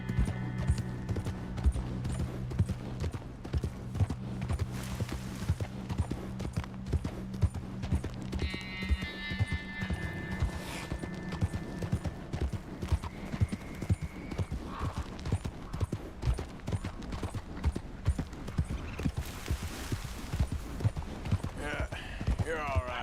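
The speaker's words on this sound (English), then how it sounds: "Cavalo andou, velho." Horse hooves clip-clop at a walking pace in the open-world western game Red Dead Redemption 2, a steady close rhythm continuing throughout with someone talking over it and background game sounds.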